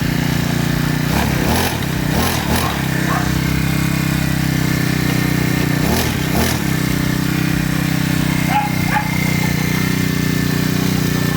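A Honda GX35 four-stroke gasoline grass cutter engine runs steadily and loudly throughout, a continuous mid-pitched drone with a few brief rises in revs, while someone talks intermittently over it.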